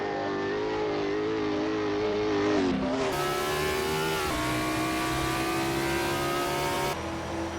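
Chevrolet Camaro race cars in an Assetto Corsa drag race, engines howling loud and continuous as they accelerate, pitch climbing through gear changes with a brief shift dip, no talk.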